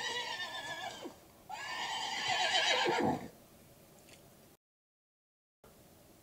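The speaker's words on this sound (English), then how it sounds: "This is a horse." A horse neighs loudly, a short whinny followed by a longer shrill one, then quiet with a faint later sound and a gap of silence.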